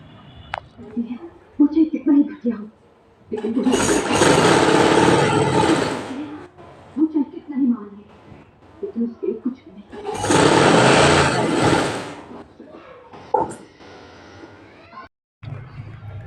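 A sewing machine stitches lace onto sleeves in two loud, whirring bursts of a few seconds each, separated by someone talking nearby.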